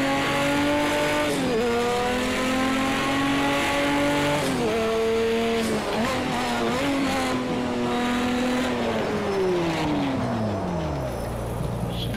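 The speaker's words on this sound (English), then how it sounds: "Shut this engine off." A roughly 1200-horsepower Roger Penske race car engine runs loud and close, rising and dipping through several revs before winding down at the end.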